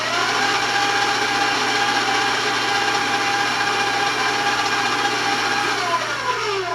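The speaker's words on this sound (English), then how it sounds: "I'm just going to turn my mixer on just to kind of mix it and blend it together" Electric hand mixer running steadily through chocolate brownie batter, a loud continuous motor whir with a faint pitch shift near the end, heard alone with no voices.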